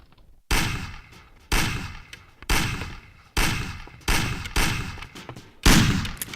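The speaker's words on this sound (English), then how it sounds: "Shoot the cans off of the table." Seven sharp pistol gunshots ring out one by one at roughly one-second intervals as cans are shot off a table in the 2002 Mafia video game, each crack loud and close with a short decaying tail.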